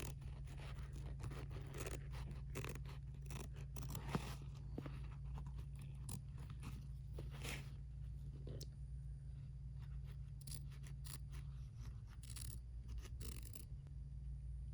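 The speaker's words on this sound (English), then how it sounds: "trim really close to the line. Just carefully cut around without trimming the thread" Faint, scattered snips of small scissors cutting close around an embroidered design on fabric, in a quiet room with soft rustling between the cuts.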